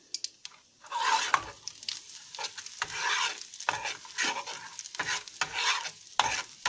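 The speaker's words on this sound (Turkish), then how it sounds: "Biraz Kırmızı biber ilave ettim." Red pepper sizzles in a hot pan while a spoon stirs it for green lentil soup with noodles, giving close, uneven scraping strokes over a soft frying hiss.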